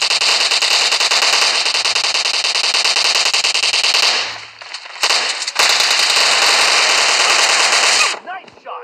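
Gunfire in the video game PUBG Lite during a team deathmatch: loud, sustained automatic fire that runs almost without pause, breaks briefly, then resumes before cutting off.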